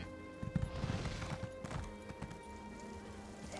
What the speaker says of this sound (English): There is a matching pony or non-combat pet as seen right there.